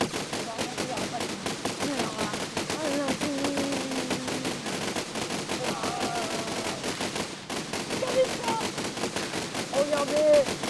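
A Besiege machine loaded with cannons fires in rapid, steady volleys, like machine-gun bursts, throughout the scene while someone speaks French over the shots.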